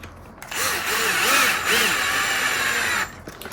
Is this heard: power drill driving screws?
yes